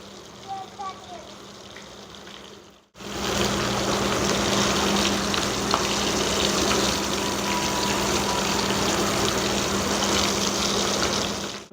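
Cut boiled-egg devils fry in hot oil. After a short quieter opening, a loud, steady sizzle starts abruptly and continues at an even level to the end.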